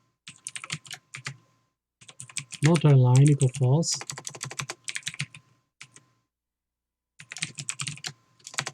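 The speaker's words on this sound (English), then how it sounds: "Wow, typing." Computer keyboard typing in quick irregular bursts, close and clear, with someone talking over part of it.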